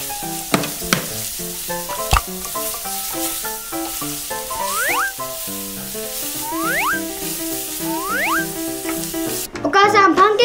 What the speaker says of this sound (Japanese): ハム焼きます